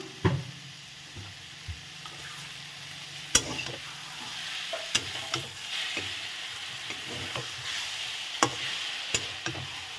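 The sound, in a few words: stirring a dish with spices and coriander in a pan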